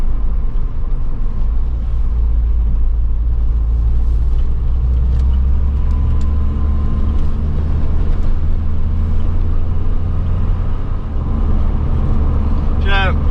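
An MG Metro 1300 car drives steadily on the road, heard from inside as a loud, constant low engine and road rumble with no talk.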